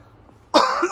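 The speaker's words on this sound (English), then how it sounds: "still coughing from being sick" A person still recovering from illness coughs once in a short, harsh burst up close, after a moment of near silence, in a warm indoor space among potted fig trees.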